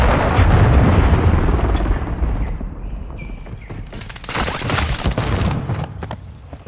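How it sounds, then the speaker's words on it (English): In Call of Duty: Modern Warfare 3, a cruise missile strike hits with a heavy, booming explosion that rumbles and fades, followed by a crackling flurry of gunfire and debris-like bursts. "Friendly cruise missile deployed."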